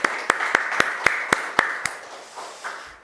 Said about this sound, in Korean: 우리 주님께 박수로 우리 기대의 마음을 올려드리면서 예배의 문을 여시죠